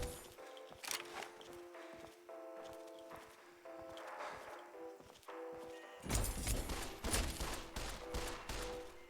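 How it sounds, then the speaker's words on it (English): Gunfire from a shooter in the wasteland of Fallout: A Tale of Two Wastelands, a string of sharp shots over a droning background, then a denser, louder burst of firing near the end. "She's shooting up the place."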